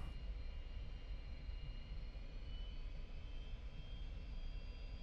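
Jet engine of a KH-22 aircraft taxiing in a video game, heard as a steady, faint roar with a thin high whine held throughout and no talk.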